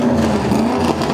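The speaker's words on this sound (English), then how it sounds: "Listen to that rev this morning." Original Ron Bouchard stock racing car engine at a Civic Days parade, loud, close, steady rumbling idle with a rough revving drone throughout, no talk over it.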